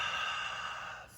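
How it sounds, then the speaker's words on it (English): A slow, steady breath out during a yoga breathing exercise, airy and soft, close to the mic and fading gently at the end with no talking. "Exhale, let it go."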